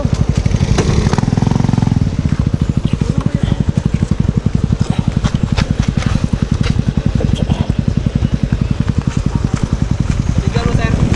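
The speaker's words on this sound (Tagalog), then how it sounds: "Dito galing ang mga motor." Motorcycles on a rough trail near Puting Bato in Tanay, Rizal, run close and loud with a rapid, continuous pulsing engine throb and a brief rush as one passes early on.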